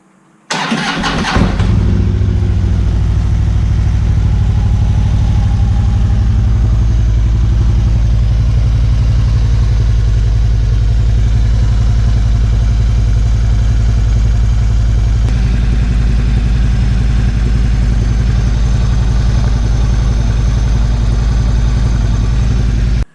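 A Harley-Davidson touring motorcycle in neutral cranks and fires up, then settles into a loud, steady, deep idle that continues evenly throughout with no talking.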